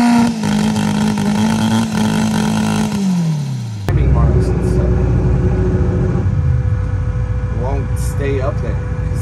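Race car engine on a two-step launch limiter while warm, at a no-prep drag race at Steel City: a loud, steady, close engine drone with a pitch drop, then a sustained buzzing hold.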